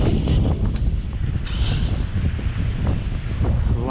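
Gusty wind at a beach blowing across the microphone, a steady low rumbling roar with small shifting gusts and a faint mechanical whir midway, no talk.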